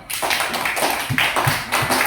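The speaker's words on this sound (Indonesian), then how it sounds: "berikan tepuk tangan untuk kelompok 1." Applause in a classroom for a student group: dense, uneven clapping from several people, loud and close, lasting about two seconds with no talk over it.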